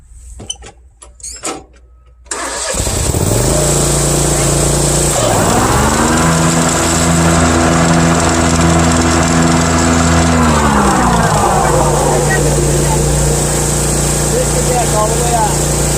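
Riding lawn mower with the PTO engaged runs steadily and loudly after brief quiet talk at the start, its engine hum shifting pitch partway through as the blades load and unload.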